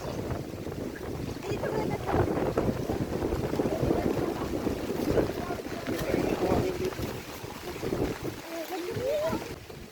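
Strong gusty wind buffets the microphone with a constant roar, mixed with rushing surf and rain at Manguisoc Beach, while voices talk over it.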